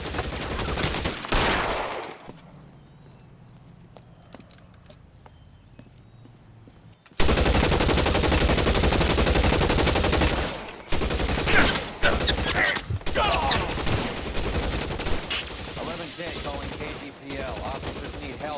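Bursts of automatic gunfire in a video game cutscene, loud and sustained, with a quieter stretch of distant shots before heavy firing resumes. Speech is heard at times through the shooting.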